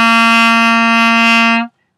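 A clarinet sounds a single sustained C, a loud, steady reedy tone held for about a second and a half and then cut off cleanly, played alone with no talking.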